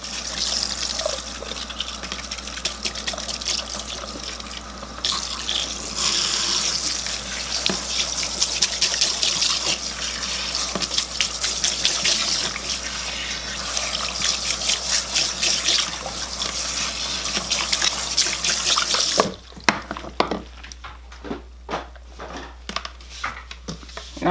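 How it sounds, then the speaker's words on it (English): Tap water runs steadily onto a wig as it is thoroughly wet down, a full close gush that stops near the end, leaving softer drips and splashes. "So we're getting ready to thoroughly wet down the wig."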